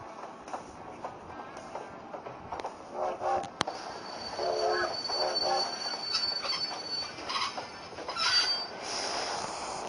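A train pulling into a station in Train Simulator 2016, with loud, sustained squealing of braking wheels and rail rumble throughout, steady and close with no talk.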